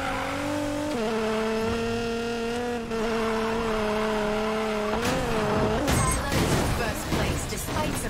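Race car driving in Need for Speed Payback, a steady high engine drone that shifts pitch around the one-second and five-second marks, then turns rougher with tire and skid noise, continuous and loud with talk over it.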